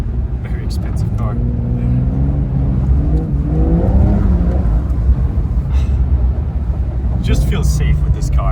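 A Porsche 992 Dakar driving through deep snow, its engine rumbling steadily with a few rising revs, a continuous close-up drone with wind and snow noise.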